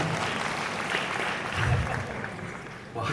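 Broad audience applause fills a television award ceremony hall right after a lead actor award, a steady, dense wash of clapping with a voice talking over it.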